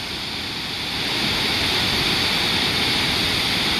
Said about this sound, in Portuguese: É que eu estou aqui perto da cascata.